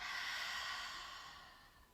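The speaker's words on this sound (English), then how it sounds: "Deep breath in. Deep breath out." A single long, soft exhale from a deep breath during prenatal yoga, close and breathy, fading out over two seconds.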